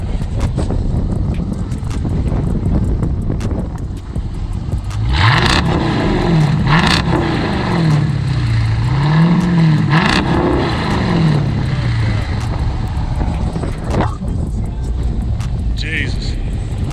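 Jeep Grand Cherokee SRT8 fitted with a straight-pipe exhaust revs loudly and repeatedly, its engine note rising and falling in rhythmic swells over steady rumble, with people talking over it.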